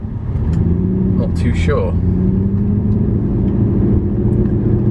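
A Mercedes C63 on a road test drive, its engine droning steadily from inside the cabin with road rumble underneath, while someone speaks briefly over it.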